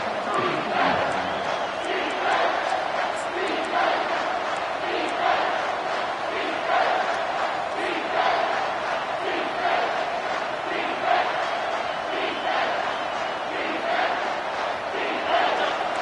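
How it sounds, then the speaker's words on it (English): A huge stadium crowd roars continuously at a football game as the defense faces a red zone stand, a dense wall of voices and chanting that pulses in waves without letting up. "here comes the noise. This crowd is trying to inspire this defense to make a big red zone stop"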